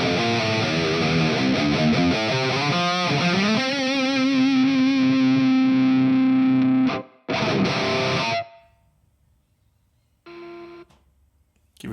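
High-gain distorted electric guitar played through a ToneX amp profile, loud and saturated with sustained chords and a long held note, then cutting off abruptly before a brief final burst.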